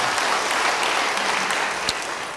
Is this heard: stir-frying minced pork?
no